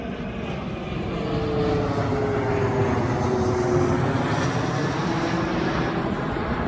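Airplane passing low near an airport, heard as a loud, steady engine roar with a slowly shifting drone that fills the whole clip, with no talking.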